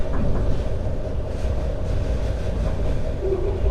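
Railway wagons roll past during a delivery in an industrial zone in Amiens, a steady loud rumble of wheels on track with no breaks.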